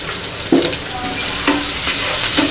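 Chopped onion sizzles loudly in hot mustard oil with whole cumin seeds, a steady close crackle broken by a few heavier stirring scrapes.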